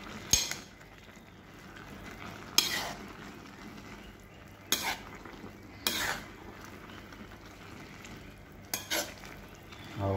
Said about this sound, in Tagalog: halo-haloin lang natin para hindi naman magtampo yung sa ilalim na